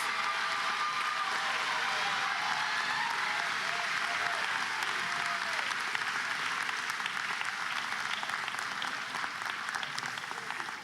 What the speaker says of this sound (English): So let's give them a hearty, well-deserved round of applause.